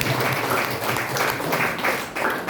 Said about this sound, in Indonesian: kita beri tepuk tangan yang meriah buat Tuhan